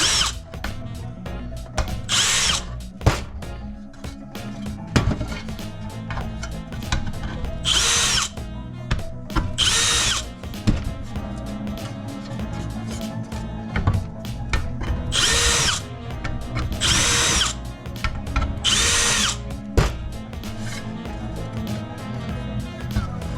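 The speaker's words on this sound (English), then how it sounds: "deburr those up real quick and put it together." A power drill deburrs parts during a K24 engine swap into a third-generation Honda Accord LXI coupe, whining in repeated short bursts of high-speed spinning separated by pauses, close and loud.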